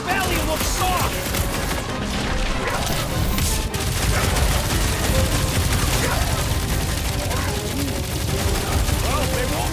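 Heavy, continuous gunfire and booming blasts from a big gun in Marvel's Guardians of the Galaxy video game, loud and dense with crashing impacts and battle noise, while voices speak over the barrage.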